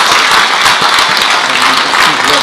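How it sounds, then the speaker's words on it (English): Audience applause at a city council meeting, honoring a school JROTC Highlander Battalion: dense, steady clapping from a room full of people, loud and continuous, with some voices faintly mixed in beneath it. "Let's give them another round of applause."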